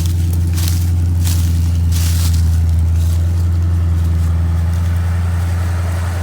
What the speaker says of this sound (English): Alright, so you heard the car run.